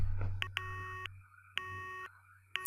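Busy tone on a cell phone after dialing 110 in the Corpse Party: Book of Shadows video game, three clean repeating electronic beep bursts separated by short gaps over a steady low hum, with no talking.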